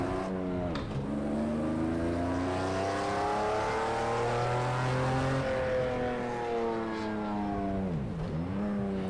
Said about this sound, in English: here we are in Project Cars 2 on board the McLaren F1. Just going to do some casual laps here at the Red Bull Ring